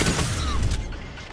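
Gunfire in a Destiny 2 Crucible PvP gunfight, a short loud burst of shots and a booming blast that fades within about a second.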